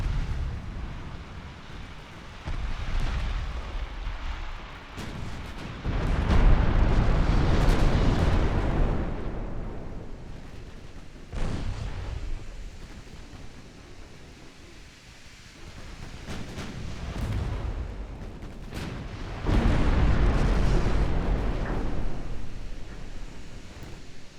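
Deep booming explosions and a torpedo hit in the naval warship game Ultimate Admiral Dreadnoughts, with heavy rumbling blasts rolling in waves at intervals over a sea-like wash.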